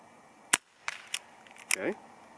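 An Umarex Ruger SuperHawk air pistol fires 0.43 gram pellets, making sharp, quiet snaps: one clear shot, then a few fainter clicks, with a brief low voice near the end.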